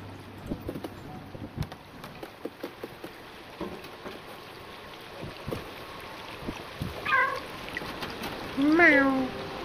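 A cat meows in the game Stray, two short rising-falling cries late in the moment, faint against a background of wind and scattered taps, and a person talks earlier on.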